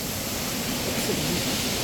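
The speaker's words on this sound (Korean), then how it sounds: "계곡 초입부터 멋진 작은 미니 폭포들이 지금 나타나고 있습니다" Small waterfalls in a clear mountain valley stream produce a steady, broadband rush of falling water, constant and close with no clear breaks.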